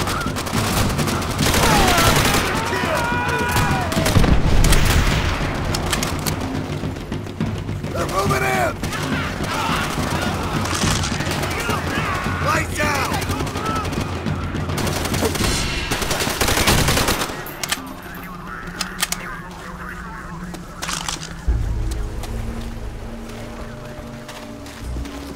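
Bursts of gunfire from a World War II battle in Call of Duty: World at War, with repeated rapid shots and heavy firing under shouted voices and battle noise, easing off near the end.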